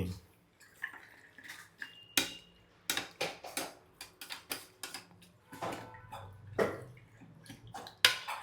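Ingredients are stirred with oil in a cooking pot for a tomato, red lentil and amaranth rasam, making a series of irregular metallic clicks and scrapes of spoon on pot. Faint voices can be heard in the background.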